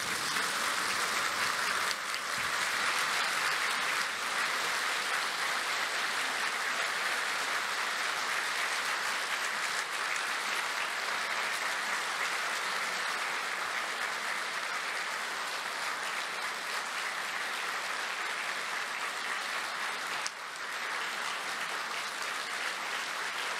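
A large congregation applauds at a 2023 Easter union worship service at Yeongnak Church in Korea, dense sustained clapping that fills the hall for over twenty seconds.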